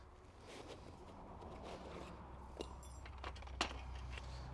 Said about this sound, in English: we'll retrieve the key itself from the jack bag